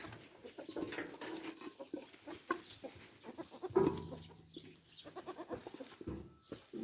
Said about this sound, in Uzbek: To'rtta tug'ilgan zotli echki.